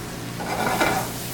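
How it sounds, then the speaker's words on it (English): Chopped red onions hit a hot pan and sizzle with a soft, hissing fry and a faint scrape of stirring, close and fairly quiet, lasting about a second without speech. "I'll put the onions. You want to hear that sizzle, okay?"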